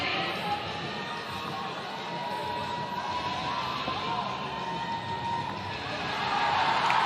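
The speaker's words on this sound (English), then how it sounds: "Ricky calling for the assistance from the crowd here" A large CrossFit Games arena crowd roars and cheers steadily for a lifter squatting 455 on the bar, a dense continuous wash of voices that swells louder near the end.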